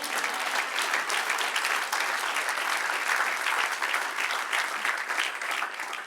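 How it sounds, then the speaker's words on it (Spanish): A church congregation applauds loudly and steadily for several seconds, a dense even clapping from a sizeable crowd with no voices standing out. "Dale un aplauso al que reina."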